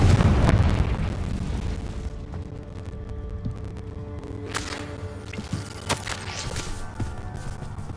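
A booming Confringo fire spell explosion from the Hogwarts Legacy video game bursts loudly at the start with a deep rumble, then decays into crackling debris and scattered footsteps.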